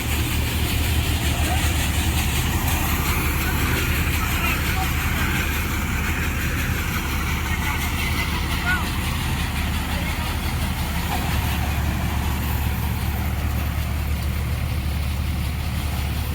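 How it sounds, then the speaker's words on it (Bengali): A Swaraj 744 XT four-wheel tractor engine runs above 1500 rpm while threshing damp paddy in hot sun, producing a loud, constant, dense mechanical roar throughout with no break. "একটু আরপিএম বাড়িয়ে চালাচ্ছি পনেরোশো আরপিএমের উপরে একটু চালাচ্ছি"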